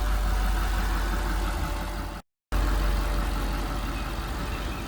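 A custom Mercedes-Benz SL55 AMG idles with a deep, steady, loud rumble close by, broken by one brief dropout midway.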